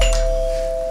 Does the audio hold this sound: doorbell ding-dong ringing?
yes